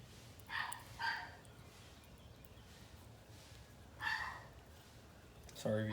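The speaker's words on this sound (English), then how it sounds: "Sorry if you could hear my dog barking." A dog barks faintly in the background, a few short separate barks spread over several seconds, distant and quiet beneath a steady hiss.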